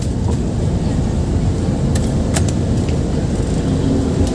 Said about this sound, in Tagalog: Ayan okay na, tumatakbo na yung Civic